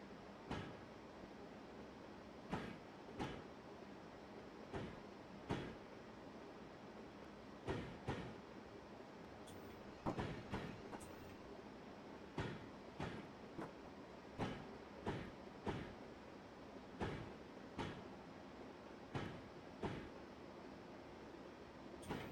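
A train creeps slowly through a train wash in Train Simulator 2017, with faint background rumble broken by repeated sharp clunks and knocks at irregular intervals of roughly one to three seconds.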